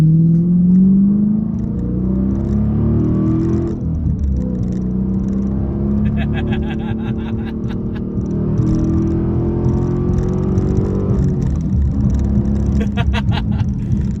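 A 2009 Dodge Challenger SRT8 with a 6.1-liter Hemi V8 rumbling deeply up close, its engine swelling and easing through revs, with a person talking over parts of it.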